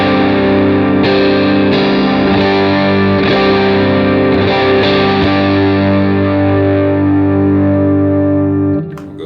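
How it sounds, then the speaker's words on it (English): Distorted chords ring out from an electric guitar's neck pickup, a Texas Special, strummed at a steady pace with thick sustain, loud and close, before the sound drops away at the very end. "This is my neck pickup right here."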